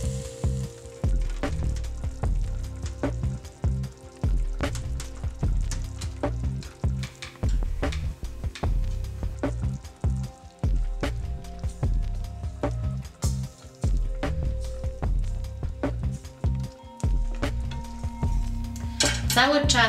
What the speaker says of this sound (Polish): Cały czas mieszam risotto, żeby ziarenka ryżu nie przypaliły się